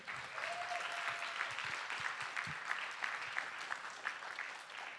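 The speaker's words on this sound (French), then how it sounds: "j'aimerais que vous applaudissiez bien fort" Audience applause fills a concert hall at a school big band jazz performance, a steady, dense clapping that stays even throughout with no voices over it.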